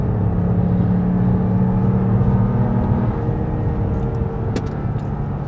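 A 2026 Jeep Grand Cherokee with the Hurricane 2.0L engine under full throttle gives a steady engine drone and road hum heard from inside the cabin, with the tone shifting slightly as the SUV gathers speed.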